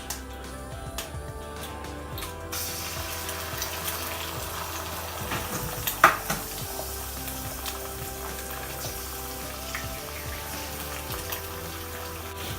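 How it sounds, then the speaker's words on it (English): Eggs sizzle and crackle in hot oil in a pan as chicken fried rice is prepared, a steady close frying hiss running throughout with a small bright clatter near the middle. "we're going to add a bit of oil, and we're going to add our eggs to it"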